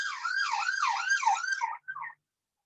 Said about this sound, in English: you may be hearing some of the London ambulances